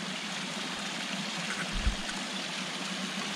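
Cool, clean stream water flows steadily outdoors near a huge boulder, a continuous close babbling rush with no voices.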